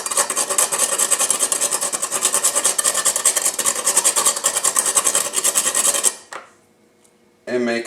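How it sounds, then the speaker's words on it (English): Dried ginger root rubbed hard on a zester, a fast, even rasping scrape repeated steadily for about six seconds, then stopping, followed by a short burst of noise. "rub it on the zester nice and good like so"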